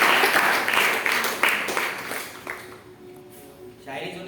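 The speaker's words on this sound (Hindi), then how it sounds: "वचन के लिए तालियां बजा सकते हैं।" Audience applause at a church worship gathering, a burst of clapping that fades over a few seconds into quieter room sound with a faint tone near the end.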